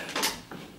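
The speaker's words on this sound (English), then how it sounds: "no, that wasn't me, that was the chair" A chair on a theatre stage at the Gaiety on the Isle of Man gives two brief, faint creaks in close succession.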